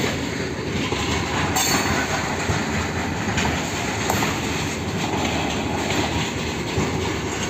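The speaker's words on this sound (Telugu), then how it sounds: "ట్రైన్ హెవీ లోడ్తో వెళ్తుంది." A heavily loaded coal freight train from the Kothagudem coal plant rolls steadily past on the Bhadrachalam Road line, a loud, continuous rumble with clattering wheels and occasional squeals.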